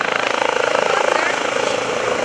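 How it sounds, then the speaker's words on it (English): The AirMed 1 medevac helicopter of Hackensack UMC flies at the 2014 Greenwood Lake Airshow, its rotor thumping in a steady, fast rhythm, loud and close throughout. "He's going to do a little rock and roll flying with his AirMed 1 helicopter."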